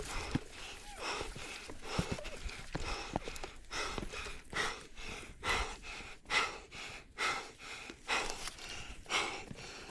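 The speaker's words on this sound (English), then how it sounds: "His breathing could be heard." A man breathing heavily and gasping while fleeing or being attacked by a bear on a mountain. Ragged, rhythmic breaths and snorts come close and loud for about ten seconds, one after another.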